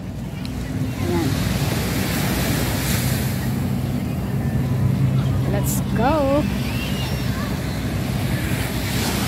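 Strong ocean surf rolls in at Lido or Casam Beach in Tsuen Wan, heard as a steady broadband roar mixed with wind buffeting the microphone, while people briefly speak over it.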